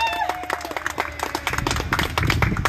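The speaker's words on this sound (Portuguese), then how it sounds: "Uma salva de palmas para os nossos homenageados." Audience at a Christmas celebration for honorees at the Bezerra de Menezes shelter bursts into dense, steady clapping that builds over a few seconds, with a brief voice or whistle-like tone at the very start.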